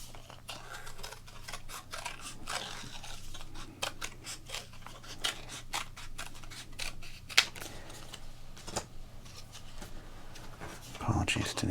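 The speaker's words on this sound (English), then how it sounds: "So if you like the scissors and the cutting, I want to know so we can do more of them." Scissors snip through minor league baseball cards in a quiet close-up setting, a long series of crisp, rhythmic cuts with soft rustles between them, while someone talks quietly in the background.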